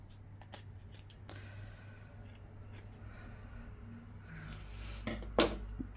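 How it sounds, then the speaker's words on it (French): Scissors cut away excess sherpa fabric and zipper tape near a sewn collar edge, a few soft snips close up and alone, with one sharper cut near the end. "Je vais venir enlever ici le surplus de Sherpa"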